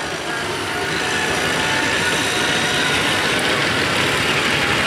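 Oliver tractor engine roaring steadily as it hauls a weighted sled at a night tractor pull, a loud continuous broadband drone filling the whole stretch with crowd ambience.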